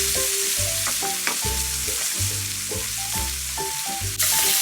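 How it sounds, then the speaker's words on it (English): Steak sizzling in a pan with butter and garlic cloves while being basted, a loud, continuous close-up frying hiss with spoon-scrape and spatter bursts in a repeating rhythm. "So I'm going to just baste this a little bit."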